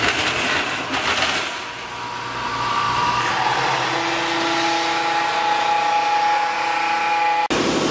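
A loud, steady mechanical whir like a heater or blower fills the space as a vacuum forming machine's oven heats plastic material, with a tonal hum rising midway and a sharp click near the end.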